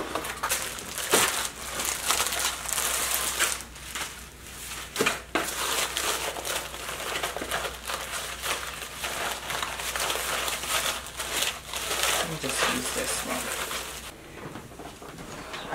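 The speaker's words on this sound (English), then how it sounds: "Let me get my wrapping paper." Wrapping paper crinkles and rustles steadily as it is handled during gift wrapping, a close, continuous papery crackle with sharper crumples throughout.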